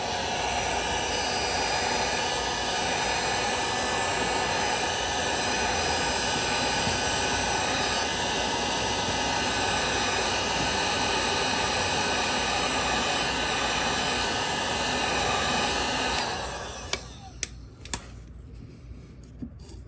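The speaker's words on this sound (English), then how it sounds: "I'm going to use the heat gun to try and get it to relax and mold back into the shape it should be in" Heat gun blowing hot air onto a deformed part of a 1996 Camaro Z28, a loud, steady close-up roar of rushing air that holds unbroken, then cuts off, leaving faint clicks and handling noises.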